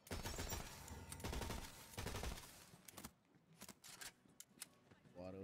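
A burst-fire assault rifle in Tiny Tina's Wonderlands shoots rapid clustered volleys of crisp gunshots, dense at first and then thinning into sparse individual shots with game effects.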